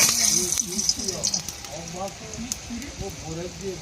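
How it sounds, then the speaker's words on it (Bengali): Dry red chillies temper in hot oil in a wok, giving a crackling, spitting sizzle with scattered sharp pops, close by, while someone talks over it. "কড়ার মধ্যে তেল দিয়ে দেবো। শুকনো লঙ্কা ফোড়ন করব।"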